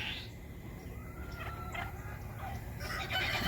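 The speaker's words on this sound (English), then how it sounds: "you see the chicken right there" Chickens in a backyard garden with pear trees cluck and call, with a rooster's crow rising near the end, fairly close and moderately loud over outdoor background noise.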